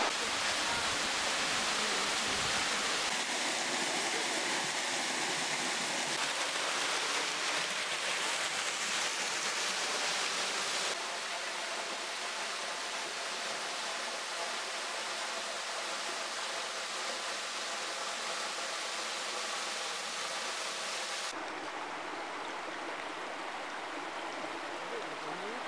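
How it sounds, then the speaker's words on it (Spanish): A waterfall on a mountain trail in the Sierras de los Comechingones pours as a steady, dense broadband rush of water that stays loud and continuous for the whole stretch, changing tone slightly as the listener moves. "Se empieza a escuchar más fuerte el agua, debe estar bastante cerca el chorro."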